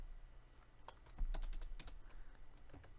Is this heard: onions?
no